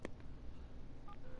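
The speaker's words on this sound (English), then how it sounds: "Call her on the phone." Telephone keypad tones from The Sims 4 video game: a few short dialing beeps, spaced irregularly, sit over a steady bed of game background noise.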